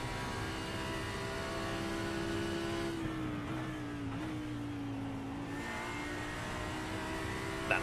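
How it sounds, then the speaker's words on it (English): A V10 GT3 race car in a sim racing game at Sebring roars loudly at close range, its engine note dropping on a downshift into a corner and then holding a steady drone, with no talk. "That lovely sound there of the V10 and on the downshift"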